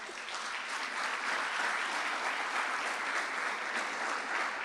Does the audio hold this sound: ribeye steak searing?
no